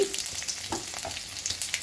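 Steady crackling sizzle of ginger frying in hot oil after mustard seeds have popped, close up, with occasional stirring scrapes and pops.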